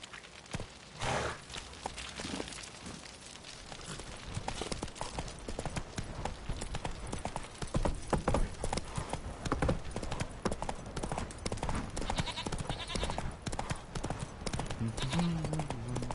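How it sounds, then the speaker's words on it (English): Horse hooves clip-clop steadily in The Witcher game, a continuous busy trot mixed with ambient game sound while voices talk over it. "Time to water the horses."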